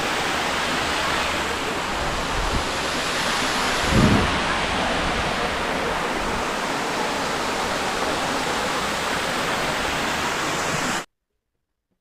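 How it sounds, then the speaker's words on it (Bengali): Steady, roaring rush of Moti Jharna waterfall in Jharkhand fills the scene without a break, with a brief low thump midway before it cuts off near the end. "মতি ঝর্ণা এসেছি আমরা আজকে ঘুরতে।"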